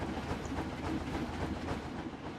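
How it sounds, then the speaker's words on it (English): A train in the Planet Coaster theme-park game rolls into a station with a steady, dense mechanical rumble that stays even and fairly close throughout. "We're actually going to ride this train as it pulls in."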